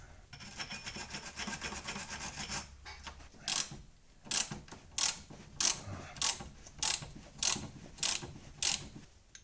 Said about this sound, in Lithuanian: Tai atsisuku tos varžtelius dabar.